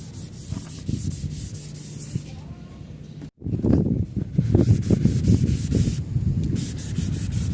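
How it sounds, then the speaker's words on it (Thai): A yellowed car headlight is wet sanded by hand with 1000-grit sandpaper and water, making steady rhythmic scrubbing strokes close by, with a brief pause midway before the sanding resumes more strongly. "ขัดจนไม่มีคราบเหลืองติดไหลออกมา ตามน้ำนะครับ"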